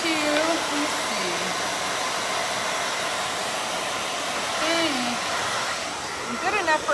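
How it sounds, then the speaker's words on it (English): A blow dryer runs steadily at close range, drying paint on hand-painted Frosty the Snowman yard art, a constant whooshing roar with faint whistling tones riding over it, while a person talks quietly underneath. "I might have to get the blow dryer when I get to the broom"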